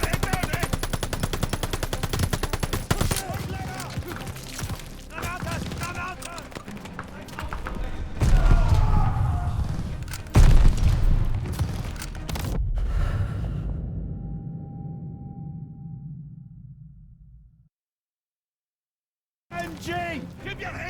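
Machine gun fire from an MG nest in the Call of Duty Vanguard video game, loud rapid bursts and heavy thuds with shouted voices over the top, fading into a long ringing tail, then a brief silence before more gunfire.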